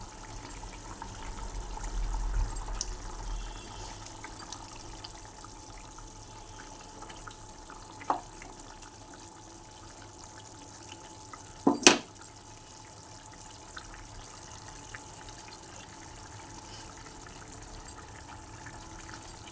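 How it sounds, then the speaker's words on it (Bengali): Fish curry broth with cauliflower and potato simmering in a pot, a soft, steady bubbling and watery wash throughout, with a couple of brief louder splashes or clatters near the middle. "দেখুন বন্ধুরা, ঝোল ফুটে উঠেছে।"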